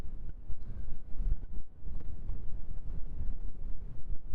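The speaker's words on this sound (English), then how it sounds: "Sounds like I'm outside on a windy day." Gusty wind on a stormy day rumbles against the microphone in uneven, pulsing bursts, fairly loud and low, with no voices.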